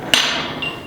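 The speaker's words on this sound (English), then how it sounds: "A common hammer, carpenter's hammer." A carpenter's hammer rings out once with a sharp metallic strike, its bright tone decaying slowly, and a fainter second ring follows later, all at home forging work.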